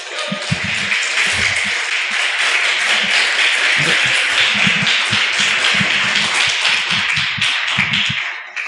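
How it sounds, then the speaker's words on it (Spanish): A church congregation breaks into loud, close applause, dense clapping that continues throughout with some uneven louder claps and no speech. "dése un aplauso"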